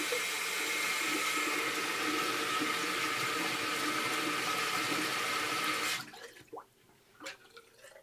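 Tap water runs in a steady, loud rush while a straight razor blade is rinsed, then shuts off abruptly, leaving faint drips and small clinks in a quiet room.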